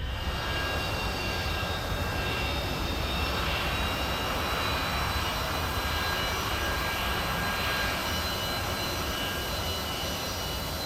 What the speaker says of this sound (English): we're just taxiing out of the parking spot here at Cavaletti